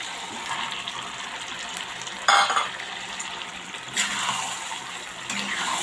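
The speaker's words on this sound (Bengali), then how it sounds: "এখন সেদ্ধ করা কচু শাকগুলো দিয়ে দিই।" Boiled taro greens hitting a pan where a hilsa fish head has been browning, giving a steady frying hiss with a louder burst of sizzle and stirring scrapes partway through.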